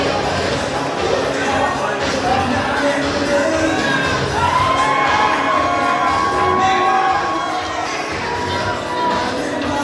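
At a Relentless Wrestling event, the audience cheers a wrestler heading into the ring, a dense loud roar of shouts, whoops and children's yells that carries on throughout, with a commentator talking underneath.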